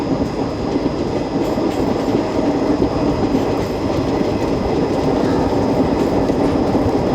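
The Jan Shatabdi Express, an ICF-coach passenger train in Kerala, pulls away and gathers speed with a continuous loud rumble and rhythmic wheel clatter, heard close from inside with no talk.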